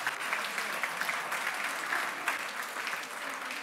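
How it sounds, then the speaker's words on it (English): Audience at the Sharelle McMahon Medal 2023 netball awards applauds in a dense, steady wash of clapping that holds at an even level from start to finish. "Give her a round of applause."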